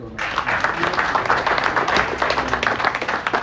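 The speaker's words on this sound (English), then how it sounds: "The next thing is let us clap for ourselves." A workplace seminar audience applauds itself, with dense, steady clapping from many hands filling the room. The applause starts almost at once and keeps going at an even level, with some voices mixed underneath.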